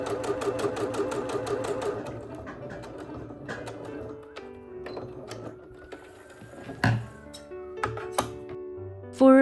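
Sewing machine at high tension gathering a ruffle for a tablecloth, an even whirring run that slows and breaks into scattered clicks and knocks.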